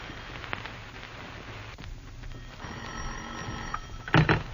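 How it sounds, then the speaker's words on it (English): A telephone bell rings in an old-time radio drama, a short bright ring near the end following a quiet stretch of room tone, with no talking over it. "and finally the phone rings."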